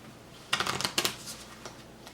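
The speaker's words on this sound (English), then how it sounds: "and we shuffle them" A quick riffle of playing cards, two short bursts of rapid flicking close by, followed by a few soft taps.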